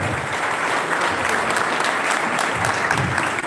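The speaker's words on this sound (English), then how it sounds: "please, ladies and gentlemen, give this wonderful guy a very good round of applause" A round of applause from the audience at a global innovation forum, a full, continuous wash of many hands clapping at steady loudness from start to finish.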